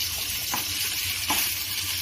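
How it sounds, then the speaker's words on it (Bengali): Koi fish sizzling steadily in hot oil, a dense continuous frying hiss with a couple of brief spatters, close and fairly loud with no talking. "মাছটা ভাজা হোক, সুন্দর করে মাছটা ভাজা"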